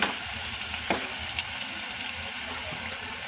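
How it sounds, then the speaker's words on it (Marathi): Chicken stirred in spice masala in a clay pot for Saoji chicken, an even close sizzle with occasional soft taps and scrapes of a spoon against the earthen pot. "आता आपण हे व्यवस्थित मसाल्यामध्ये दोन मिनटं परतून घेऊया"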